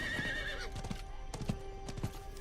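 A horse in the video game Diablo IV clip-clops along in a steady galloping rhythm with a brief whinny at the start, heard quietly over a low game background hum.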